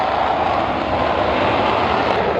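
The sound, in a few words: jet fighter aircraft engines, Folland Gnat chasing F-86 Sabres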